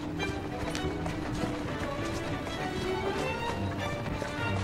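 Steady rhythmic clip-clop of horse hooves trotting along in the video game Assassin's Creed Syndicate, fairly close and continuous, with a faint murmur of other sounds beneath.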